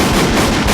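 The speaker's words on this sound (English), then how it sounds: "Gunshots." A loud, dense blast of gunfire fills the whole brief moment, harsh and overpowering with no pause.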